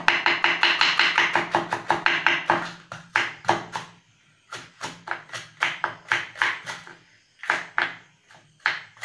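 A knife slices banana peel on a cutting board for pakoda, giving a fast run of crisp, close taps that slows into spaced, uneven chops.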